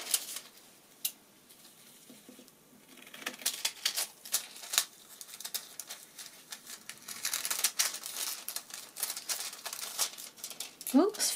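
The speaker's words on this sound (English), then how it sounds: "I need to cut a piece of foil to cover the" Foil being cut for hot foiling: faint, close crinkling and snipping with scattered small rustles that grow busier toward the end, while someone talks.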